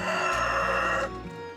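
A rooster crows loudly and close by in one long, bright, strained call that drops off near the end, leaving a quieter tail.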